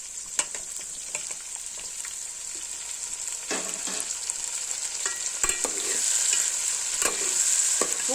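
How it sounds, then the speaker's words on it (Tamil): Tomatoes go into onions frying in a pan for chicken gravy, giving a steady sizzle with scattered stirring scrapes and clinks, close and without talk. "வெங்காயம் வதங்கிருச்சு. இப்போ தக்காளி பழம் சேர்த்துக்குவோம்."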